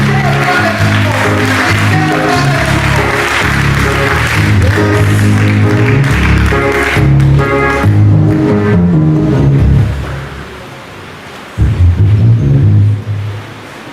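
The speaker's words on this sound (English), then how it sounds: "May we put our hands together and give them another round of applause." Loud applause from a crowd at a women's day awards ceremony fills the space for about ten seconds, fades briefly, then a shorter burst of clapping returns.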